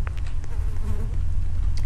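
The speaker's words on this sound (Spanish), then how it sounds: "Escuché por ahí una moscas." Flies buzzing in the Roblox horror game The Asylum, a steady close insect drone that runs the whole time with small shifts in pitch and no talking over it.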